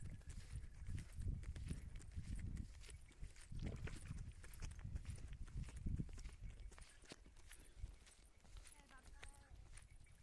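A pair of bullocks walks on a farm, their hooves clopping in a steady, close rhythm of overlapping steps while people talk nearby.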